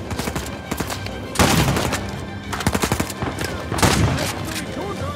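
Video game gunfire in Uncharted 4: A Thief's End, with dense, loud bursts of rapid shots and heavier volleys crackling continuously over a busy combat soundscape, without clear speech.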